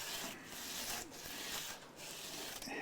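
Coarse 60–80 grit sandpaper is rubbed over acrylic, giving a close, soft, scratchy hiss in three or four long strokes with brief pauses between them, quiet overall.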